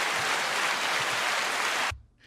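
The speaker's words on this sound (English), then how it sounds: "applause went on really long. That's a standing ovation." Recorded applause from a sound-effect button, a dense steady wash of clapping and cheering that runs at full level for nearly two seconds, then cuts off abruptly, leaving a faint low murmur.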